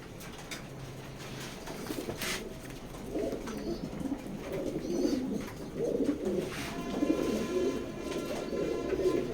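Racer pigeons coo in a pigeon loft, a flock of low, throaty calls overlapping and building in a continuous murmur, with occasional wing rustles and chirps, and no talking.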